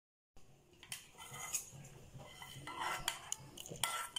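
Rava kheer with roasted cashews being mixed in a pot, a quiet series of spoon scrapes and light metallic clinks against the vessel, starting after a brief silence and growing slightly busier, no talking.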